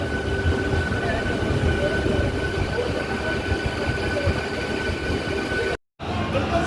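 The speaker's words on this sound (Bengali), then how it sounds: "8033 হাওড়া থেকে দীঘা EMU স্পেশাল ট্রেন তার প্রথম দিন যাত্রা সম্পন্ন করে দীঘা রেলওয়ে স্টেশনে প্রবেশ করল" Howrah to Digha EMU summer special electric multiple unit train pulling into Digha railway station on its first day, a steady loud rumble of rolling stock with faint tonal hums, continuous until a brief dropout near the end.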